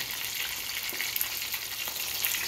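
Parrot fish and snapper frying in hot oil, Jamaican style, give off a steady, close hiss of sizzling with small pops and spatters throughout.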